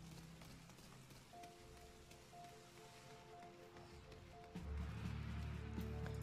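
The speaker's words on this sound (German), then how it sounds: "Warum muss es eigentlich gerade regnen?" Steady rain pours down in Final Fantasy 14, a dense even hiss with a soft tonal music-like hum beneath that swells louder near the end.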